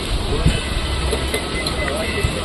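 A moving train carriage gives off a steady low rumble and hiss with faint rhythmic clatter, loud and close, and voices can be heard faintly within it.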